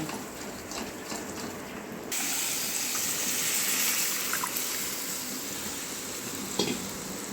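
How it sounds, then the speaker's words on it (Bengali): Masoor and urad dal boils hard on high heat, a dense bubbling hiss that swells noticeably louder after about two seconds and holds steady, with a faint clink near the end. "একটু তেজ আঁচে এটাকে ফুটিয়ে নিতে হবে"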